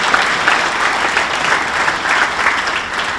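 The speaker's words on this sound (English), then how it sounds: "Give members of the Scott family a big round of applause." Sustained applause fills a hall at a sports hall of fame induction ceremony, a dense, steady wash of clapping from a large audience with no break, loud and close.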